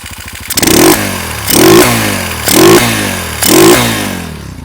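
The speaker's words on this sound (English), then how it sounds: "It sounds pretty cool. There's a real big induction noise from the carburetor." A Sachs Madass 125 motorcycle with a carbureted engine revs hard four times in close succession, each blip rising loud with a strong induction roar before dropping back to idle, heard up close.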